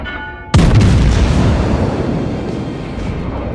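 Warship guns in World of Warships fire in a single loud, sudden boom. A long rumbling tail fades slowly over a low background drone.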